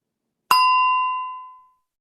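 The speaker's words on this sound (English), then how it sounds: "after 1 minute is up, the bell will ring" Timer bell in Read Live reading software: one clear electronic ding that strikes sharply and rings out with a clean tone, fading over about a second in silence.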